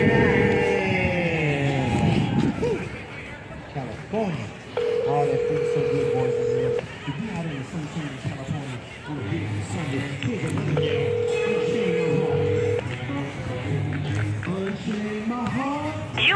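A telephone dials out to place a call, with steady tones and beeps running under a person talking throughout.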